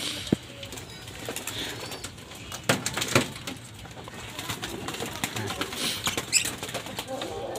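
Racing pigeons take off and fly in the rain, their wings giving sharp flapping bursts and fluttering over a wet, noisy background, with occasional soft cooing and faint voices.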